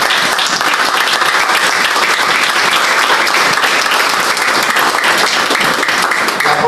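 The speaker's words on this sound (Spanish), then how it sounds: "Yo de verdad les felicito y les propicio un gran aplauso." A large audience at a historiography congress in a parish hall gives a loud, steady round of applause, a dense continuous clapping that holds at full strength for the whole stretch of nearly seven seconds.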